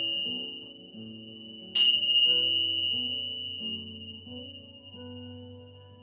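Bells ring during a chair yoga session's relaxation segment, with one clear struck tone near the start sustaining a long, bright shimmer over soft layered tones.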